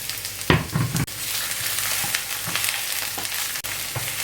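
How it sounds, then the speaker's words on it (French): Onions frying in oil in a hot pan, a steady close sizzle with brief stirring scrapes and clicks throughout. "Donc vous faites vos oignons comme ceci, vous les marinez jusqu'à ce que ça donne une couleur un peu marron quoi."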